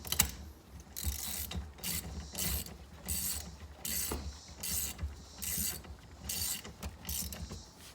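A hand ratchet tightening the hub bolt of a Momo steering wheel on a Foxbody Mustang, producing repeated clicking bursts in a steady back-and-forth rhythm, about a dozen strokes, close up.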